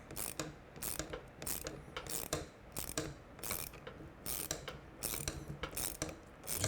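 Ratchet fitted with a 10mm socket tightening a tail light bolt on a Triumph Speedmaster, close repeated bursts of rapid clicking in a steady back-and-forth rhythm, quiet between strokes.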